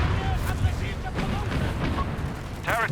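Grant tanks in Company of Heroes 3 fire their cannons together, a dense rumbling barrage of booms layered over continuous battle noise, with a brief sweeping whistle near the end.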